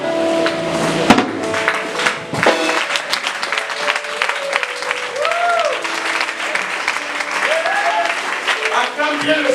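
A church congregation at a Sunday service applauding, loud sustained clapping from a large crowd with voices calling out over it.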